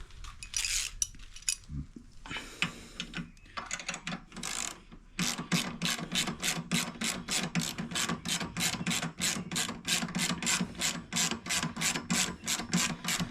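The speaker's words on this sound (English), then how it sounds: "I'm just going to tighten this up. With a 12." A hand ratchet with a 12 mm socket tightens a screw on a Burley Stiletto shock of a 2026 Honda Rebel 1100T, a close, rapid string of clicking pawl strokes after some initial handling noises.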